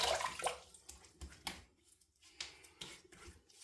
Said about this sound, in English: I'm going to put some water on the face.